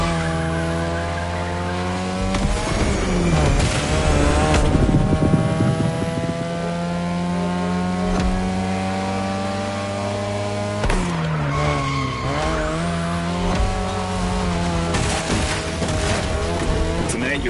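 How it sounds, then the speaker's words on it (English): A 3rd-generation 2002 Mazda RX-7 with a lightweight rotary engine in the racing game The Crew Motorfest revs high and steady, with tire squeal and skidding through the middle and loud engine pitch swoops sustained throughout. "Your ride is a 3rd Gen 2002 Mazda RX-7. Lightweight, compact, a sick rotary engine"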